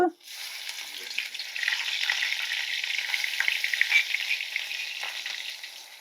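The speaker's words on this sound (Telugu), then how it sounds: "ఇప్పుడు మనం ఇలా దంచి పెట్టుకున్న ఉల్లిపాయ మసాలా దినుసులు ఉన్నాయి కదండి దీన్ని వేపుకుందాం ఫస్ట్" Pounded onion and spice masala frying in hot oil gives a continuous bright sizzle. It flares at the start, then settles into a steady crackle with faint scraping from stirring.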